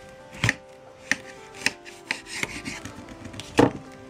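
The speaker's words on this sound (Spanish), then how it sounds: "vamos a quitarle un trozo de la parte de abajo que nos va a servir de base" A knife chops a slice off the bottom of a lemon on a board, giving several sharp close taps spaced out unevenly, with a louder final cut, over quiet background hum and no talking.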